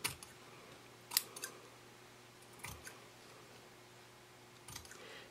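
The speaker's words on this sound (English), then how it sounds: "Then I'm just going to go ahead and trim everything in a little bit closer." Faint, sparse snips of scissors trimming fabric for a sewn zipper case, three or four short cuts in a quiet room.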